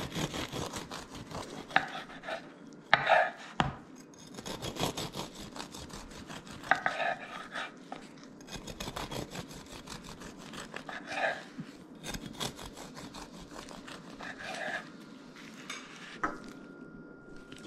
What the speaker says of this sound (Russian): Хлеб остыл, теперь его можно нарезать и кушать.